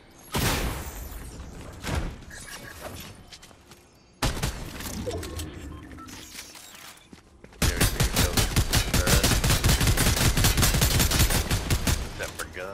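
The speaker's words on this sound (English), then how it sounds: "I hate wasting so many bullets on piece of shit turrets. 30 of my precious AR bullets." Assault rifle fire aimed at turrets in Fortnite: bursts of close gunshots, then a long sustained rapid volley of evenly spaced shots filling the last five seconds, loud throughout.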